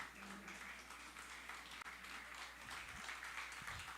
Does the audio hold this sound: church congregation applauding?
yes